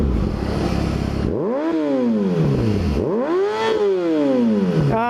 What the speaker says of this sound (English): I rev my engine at you.